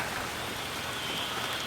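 Steady rain falls on a flooded yard in the countryside, a dense, even hiss of drops with no pauses or voices over the short stretch.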